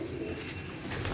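Large Teddy pigeons kept by a fancier coo in a low, continuous burble close at hand, a brief steady murmur of several birds.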